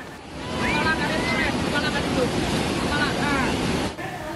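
Flash flood roaring down the Cikundul River in Cianjur, West Java, a loud rushing wash of churning water with wind buffeting the microphone, dropping off abruptly near the end.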